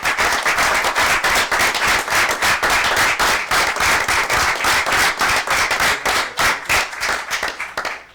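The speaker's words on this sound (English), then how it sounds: "Let's give her a nice round of applause." A council meeting audience claps for a volunteer, the claps sharp and fairly synchronized in a quick steady rhythm, loud and close, continuing several seconds before tapering at the end.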